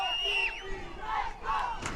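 A stadium crowd roars and cheers at a Sin City FC versus LA Force NISA soccer match, a dense wash of many voices with rising and falling shouts, loud and continuous for a couple of seconds.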